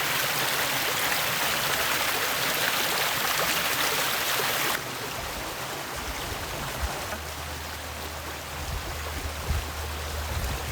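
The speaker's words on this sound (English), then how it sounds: "I see this pipe where water is just rushing down constantly" Water pours constantly from a pipe outdoors on a walking trip across Germany, a dense steady rushing roar close by that drops slightly in level partway through, with a low hum entering later.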